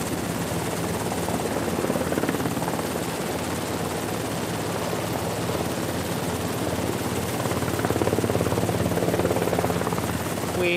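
A rescue helicopter hovers during a winch operation over the Shetland coast of Scotland, its rotor and engine making a loud, steady, unbroken drone that fills the whole stretch.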